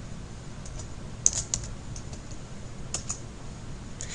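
Computer keyboard keys clicking in iMindMap 5 mind-mapping software, a few sharp, isolated taps including the Enter key, spread across a steady background hiss with no talking.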